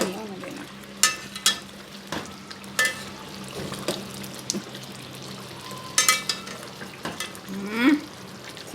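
Aloo-stuffed capsicums (shimla mirch) sizzle gently in a pan while being turned and stirred, with intermittent spoon and pan scrapes and clicks over a soft frying hiss.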